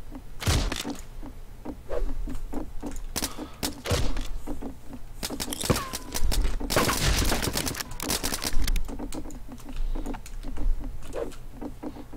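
Gunfire in the video game Rust, with bursts of rapid shots and thumps in a busy firefight, loud and close and mixed with other game noise.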